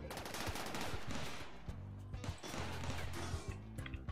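A centipede mechanoid in the game Rimworld fires its guns in rapid bursts of clattering shots mixed with impacts and crashes, loud and dense throughout.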